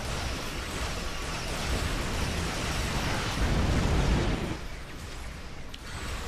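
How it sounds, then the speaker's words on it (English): Mines explode in the Star Trek Online space combat game, a heavy sustained rumbling blast that swells and rolls for several seconds, then eases into a quieter lingering roar. "only 2 of my mines made that explosion"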